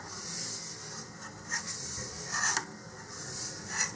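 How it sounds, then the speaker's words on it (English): Soft rubbing and brushing strokes of tissue wiping dust off a model rocket, several short swipes in an uneven rhythm, close and quiet. "now I'm just going to take some tissue here and wipe off any dust."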